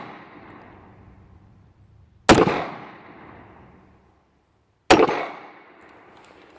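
A Norinco TT33 9mm pistol fires two sharp, loud shots at a shooting range, about two and a half seconds apart. Each crack rings out briefly over quiet background, and no one speaks.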